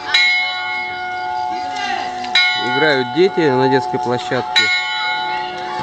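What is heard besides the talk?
church bells ringing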